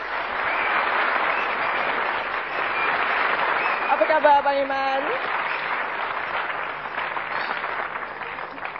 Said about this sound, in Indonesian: tepukan sekali lagi buat Iman Manan